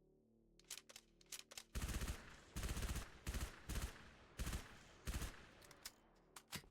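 Quiet bursts of suppressed SMG fire in a video game, several rapid automatic volleys of varying length separated by short pauses, with isolated single shots around them.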